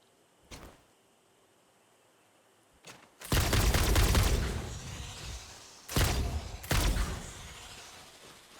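Gunfire rings out in the factory-building game Satisfactory: a couple of isolated single shots, then a long, dense stretch of rapid firing, a short pause and another loud burst, all close and without talking.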